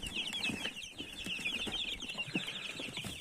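A group of crested chicks in a brooder box cheeps continuously, high rapid peeping overlapping close by, with occasional soft rustles and thumps beneath.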